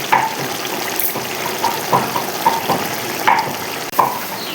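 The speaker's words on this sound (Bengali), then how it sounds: "তরকারিটা ফুটে উঠেছে, এখন আমি মাছগুলি একটা একটা করে বিছিয়ে বিছিয়ে দিয়ে দেবো।" Kajli fish are laid one by one into a boiling curry, with a steady bubbling simmer and a series of soft plops and clinks spaced across the pan.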